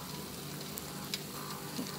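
Steady, soft sizzling of plantains frying in oil, a continuous crackle with a few faint pops and no voices.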